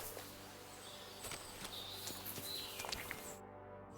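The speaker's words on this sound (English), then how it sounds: "These damned horses, they got spooked in the forest, and this is how it ended up." Horse hooves clip-clop in the medieval game Kingdom Come Deliverance 2, a steady run of irregular hoof strikes at moderate volume over soft outdoor ambience with faint birds.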